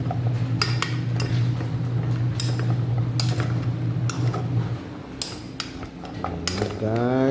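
Peanuts stirred in a pan with a metal utensil, sharp scraping clinks and rattles in irregular bursts over a steady low hum, with no talking.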